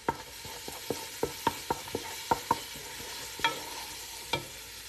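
Garlic tipped into onions frying in a pan for an oyster dish, with a steady low sizzle under repeated sharp clicks of a utensil stirring against the pan, about a dozen taps spread across the moment.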